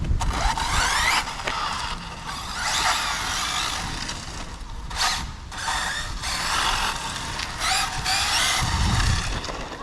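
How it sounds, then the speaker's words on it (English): An 8S Arrma Infraction V2 1/7-scale RC car driving and drifting with the handbrake: continuous high electric motor whine with rising and falling sweeps and grinding drivetrain noise, steady and fairly loud throughout. "just press the handbrake like I did"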